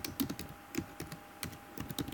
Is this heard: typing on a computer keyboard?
yes